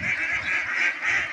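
Ducks on a small backyard duck farm, still under regular medication, give loud, close honking quacks in a few overlapping bursts with no voices.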